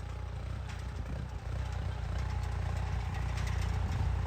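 A New Holland tractor engine runs with no load, giving an even mid-pitched chug with light clatter, at moderate level and steady throughout.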